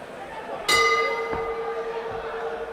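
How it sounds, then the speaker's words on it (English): A boxing round bell rings once with a bright, sustained metallic clang that lingers and slowly decays under ringside commentary and crowd noise at a fight. "There goes the bell."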